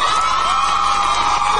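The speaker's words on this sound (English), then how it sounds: "Who are these women that scream?" Women screaming and whooping together in a loud, sustained, high-pitched cheer, close and dense for under two seconds with no clear talk.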